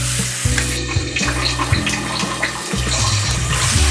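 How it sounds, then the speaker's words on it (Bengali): Mutton kosha frying with spices in a pan, a steady close sizzle with bursts of bubbling and spattering over a low rumble, continuous for the whole stretch with no voices. "মাংসটা কষা হওয়া অবধি অপেক্ষা করুন"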